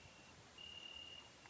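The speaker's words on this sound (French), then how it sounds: "sans autre bruit que le chant des grillons ou le son de votre respiration" Crickets chirp in a steady rapid pulsing trill that carries faint and distant through a quiet night, with no voices.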